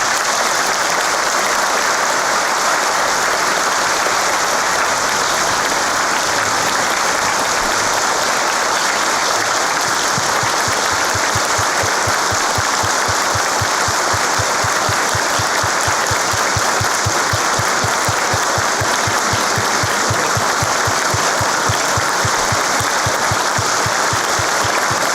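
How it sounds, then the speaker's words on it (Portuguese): Warm, sustained applause from a lecture audience welcoming a general at a Masonic talk, dense and loud clapping filling the room without pause, becoming more rhythmic and unified toward the end. "uma calorosa salva de palmas para o nosso general"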